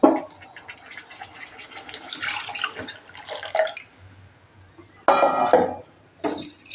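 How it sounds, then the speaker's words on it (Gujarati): Water poured from a bowl into buttermilk for Gujarati kadhi, splashing in several bursts of liquid noise with short pauses between pours, close and fairly loud. "દોઢ વાટકો પાણી નાખી દઉં."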